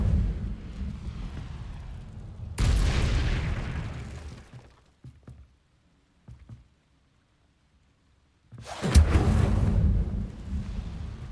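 Incendio fire spells cast in Hogwarts Legacy, heard as two loud roaring fiery bursts with rumbling low end, separated by a quieter stretch of faint thuds and near silence.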